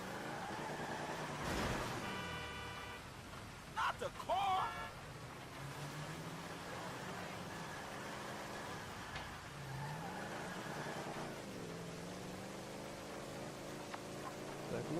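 A damaged car with a wheel gone still driving in GTA V, a steady engine drone with changing pitch, mid-distance, with a few brief tonal game beeps and faint voices talking.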